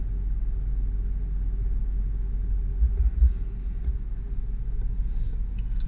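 A 2003 GMC Sierra 2500HD utility work truck with a 6.0L engine idles with a steady, deep low rumble, with a few brief bumps partway through.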